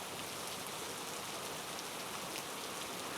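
Heavy monsoon rain pours down along the Mumbai–Ahmedabad expressway near Vasai and Virar, a dense, steady hiss of downpour that stays loud and unbroken throughout, with no voices.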